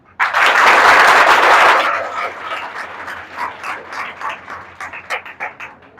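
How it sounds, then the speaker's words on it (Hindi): An audience breaks into a loud, dense burst of applause for Rudraksh sir that lasts under two seconds, then thins into scattered, uneven clapping that fades out. "भाइयों और बहनों, मैं आपसे थोड़ा रुद्राक्ष सर के लिए सबसे पहले जोरदार तालियां चाहता हूं।"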